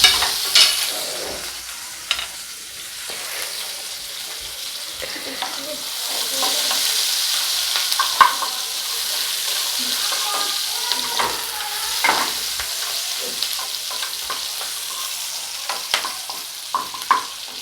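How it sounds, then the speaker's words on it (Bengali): Chopped onions sizzle in oil in a pan after eggs have been taken out, with intermittent scraping and clinking of a spatula stirring them, a steady close hiss throughout. "পেঁয়াজগুলো একদম বাদামি করে ভেজে নিতে হবে।"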